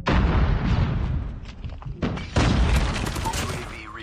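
Gunfire from a Call of Duty match, with dense bursts of shots and booming impacts filling the clip, loud and continuous, with brief gaps between volleys.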